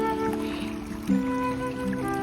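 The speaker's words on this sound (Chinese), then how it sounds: "这是一条小溪" A small stream flows beside a river, giving a steady, soft trickle of running water with a low hum underneath.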